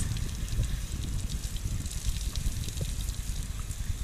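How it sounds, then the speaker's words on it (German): An outdoor shower running by the sea on the Peloponnese coast gives a steady, close, dense hiss of spraying and splashing water that continues unbroken throughout, with no voices. "Basti duscht."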